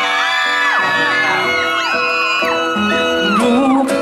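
A concert audience screaming loudly, many high voices shrieking and whooping together in overlapping rising and falling cries, sustained throughout, at a performance.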